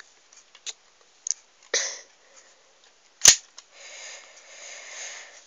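A homemade Lego toy gun fires a few sharp cap-gun-like snaps, one loud crack standing out among smaller clicks and handling rattles, close up with no talking.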